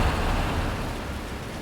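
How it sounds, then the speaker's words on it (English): Steady rain falls in the bus-driving simulator game The Bus on a rainy morning, a dense, even hiss that continues unbroken throughout with no voices. "It's a rainy morning."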